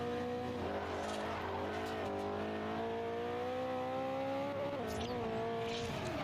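An all-wheel drive car in Forza Horizon drives with a steady, loud engine drone that rises and falls in pitch with revving, running continuously and close without any talk.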